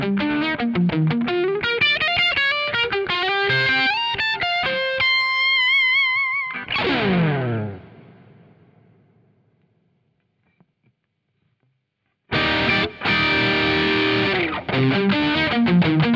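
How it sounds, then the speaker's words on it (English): An electric guitar plays a short melodic lick through a BOSS OD-200 overdrive and distortion pedal into a Ditto Looper, notes ringing out and sliding into a fading decay, then a dense distorted passage bursts back in after a silent gap. "I will play a short lick into this Ditto Looper and switch through all 15 boost types"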